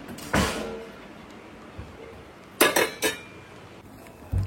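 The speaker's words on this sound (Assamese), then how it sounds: "বাচন ৰেডি কৰোঁ" Serving dishes and metal utensils are handled at a busy street food stall, with a few sharp clinks and clatters in quick succession, one early knock and a final clank over a quiet background.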